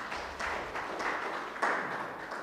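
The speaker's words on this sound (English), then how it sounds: "Let's give him another round of applause." A workshop audience in Lilongwe, Malawi gives the guest of honor a round of applause. The clapping is moderate and fairly distant, coming in uneven bursts with no voices over it.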